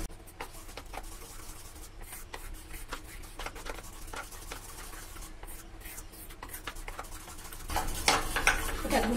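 Egg batter seasoned with turmeric being stirred in a bowl: a steady, soft scraping and tapping of a utensil against the bowl, close and continuous, growing busier and louder near the end.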